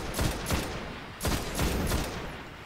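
Rapid gunfire bursts from shooting enemies in the Destiny PS4 video game, solo Nightfall play as a Warlock; several loud volleys in quick succession, alone without talk.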